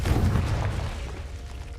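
Confringo spell exploding in the video game Hogwarts Legacy, a single deep booming blast that rumbles and fades over a second or two.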